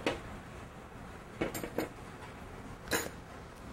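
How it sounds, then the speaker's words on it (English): A whisk works hot sauce into compound butter in a bowl for a lobster dish, giving a few faint, scattered metallic clinks and taps against a quiet background with no talking. "And whisk it up."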